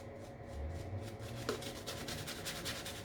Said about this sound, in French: si vous voulez bien monter ce savon, une brosse et un blaireau bien égoutté